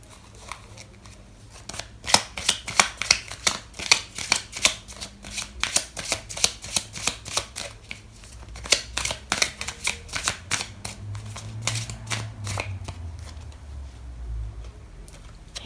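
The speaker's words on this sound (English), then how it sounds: "I'm going to pull out another card for you" Tarot cards are riffled and shuffled close up in quick, rapid bursts of crisp flapping, briefly pausing, then continuing at a steady pace.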